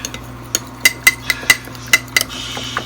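Sauce of oyster sauce, ketchup, Worcester sauce and sugar stirred in a bowl with a utensil, giving a series of sharp clinks and taps against the dish at an irregular rhythm, close and fairly clear with no talking.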